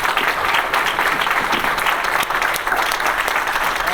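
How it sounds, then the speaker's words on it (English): Loud, unbroken applause from an audience at a summer associates graduation, honoring elected officials, dense and even from start to finish. "please join me in a big round of applause for our elected officials"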